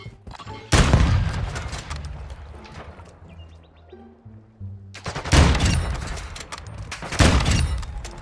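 Call of Duty sniper shots crack loudly in the open, one heavy report followed by a long decaying tail and faint distant pops, then a cluster of further sharp shots later on, with no talk over them.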